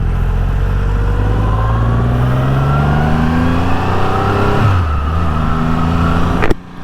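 A 2024 Triumph Rocket 3 motorcycle's big engine revs hard up close, pitch climbing steadily over several seconds, then dropping sharply before a final blip and sudden cut near the end.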